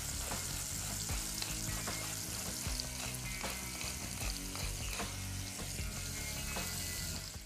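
Ham and cheese filled veal rolls fry in a hot pan, giving a steady, dense sizzle with scattered crackles and pops throughout, close and continuous with no talking.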